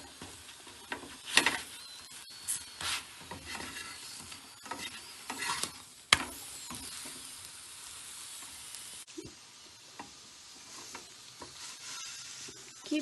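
Spinach paratha frying on a hot pan gives soft, intermittent sizzling with light scraping and stirring knocks, moderately close, with quieter stretches between bursts and no talking.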